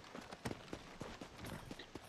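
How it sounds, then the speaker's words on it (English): Horse hooves clip-clopping in Red Dead Redemption out in the desert, a quick steady trotting rhythm of light thuds, fairly faint and close. "I'm going to call my horse and I'm going to go and do a bit of free roam out in the desert"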